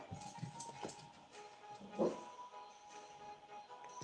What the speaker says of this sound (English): Dogs, man.